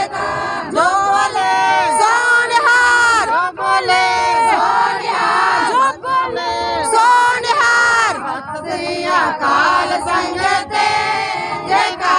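A large crowd roars a Sikh jaikara battle cry during a nagar kirtan procession in Batala for Guru Gobind Singh's Prakash Purab, with loud, repeated massed shouts rising and falling close by throughout.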